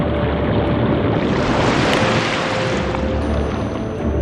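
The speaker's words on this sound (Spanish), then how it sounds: "La vida aquí está acompañada siempre por los golpes de las olas" Ocean waves crashing on a rocky tidal shore, a loud, continuous wash of churning surf and spray that swells in the middle and holds steady, with no voices.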